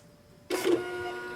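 A label printer run from custom data-logging software starts up abruptly and prints, a close, steady whirring feed with a mechanical hum that holds after the initial burst, in a quiet room without talk.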